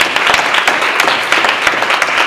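Dense audience applause filling a room at a live event, a steady loud roar of many hands clapping with no talking over it.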